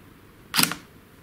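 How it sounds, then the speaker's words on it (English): A camera shutter fires once for a six-second long-exposure photograph, giving a single short, crisp mechanical click against a quiet background. "when I take a photograph with these setting, leave the shutter open for 6 seconds"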